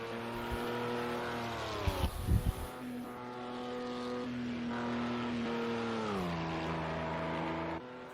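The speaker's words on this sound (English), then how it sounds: "As Das goes through the Porsche curve for the last time." A race car at Le Mans drives through the Ford chicane, its engine whining in sustained tones that drop sharply with a crackling downshift, then climb and shift again, heard alone.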